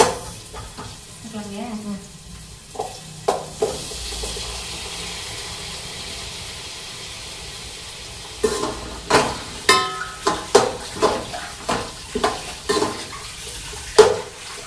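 Tomatoes are added to a pan and fry with a soft, steady sizzle. Quiet at first, the sound turns into a run of sharp clinks and scrapes as a utensil stirs repeatedly against the pan.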